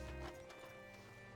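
Horse hooves clip-clopping as a rider hitches the animal at a post in Red Dead Redemption 2, a few soft hoof thuds early on, then quieter ambience with a faint hum.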